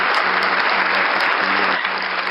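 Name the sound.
audience clapping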